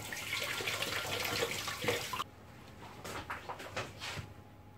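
A kitchen tap runs as hands are washed during eggplant croque-monsieur prep, a steady splashing stream that cuts off halfway, followed by a few faint drips and light handling sounds.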